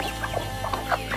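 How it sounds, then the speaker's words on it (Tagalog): Chickens cluck softly in short bursts while eating a breakfast of malunggay, banana and corn hash, close by over a low steady background hum. "Breakfast of my chicken and duck."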